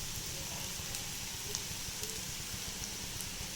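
Onions frying until brown for an egg dish, a soft, steady crackling sizzle heard close and faint, with scattered small pops throughout.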